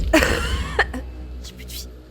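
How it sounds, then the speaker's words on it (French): A single harsh cough close by, followed by a few short throat-clearing sounds and breaths. "je vous tousse dans les oreilles, pardon."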